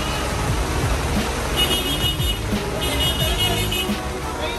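A car rumbles past nearby amid traffic noise in the rain, with a short tonal honk-like sound in the middle.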